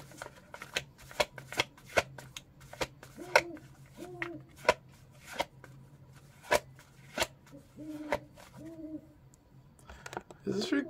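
Tarot card decks are shuffled in a run of crisp riffling flicks and soft slaps at an uneven rhythm, close and fairly quiet, with faint voice-like tones underneath.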